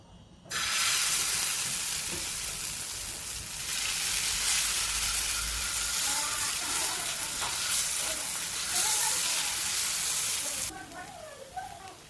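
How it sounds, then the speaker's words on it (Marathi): Oil heats on a tava griddle and bursts into a loud, continuous sizzle, with crackles and spatters rising and falling as food cooks close by and the hiss drops near the end. "आता मी तव्यावर तेल तापत ठेवले."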